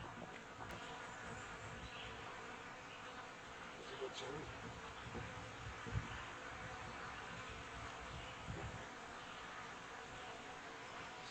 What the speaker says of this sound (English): First time I've seen bees going in and out of it.